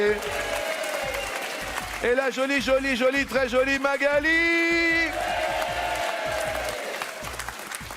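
A TV game-show studio audience applauds contestants being welcomed, with steady clapping running throughout under a host's voice and a loud musical sting.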